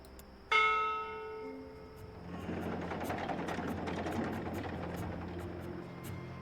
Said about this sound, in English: From what I've learned traveling on cloud ships, this is a ship's bell. They use this to signal the crew when a load of cargo's ready to be hoisted up.